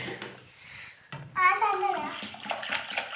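Water runs and splashes while washing in a Telugu household, a steady close gush that swells midway, with people talking over it.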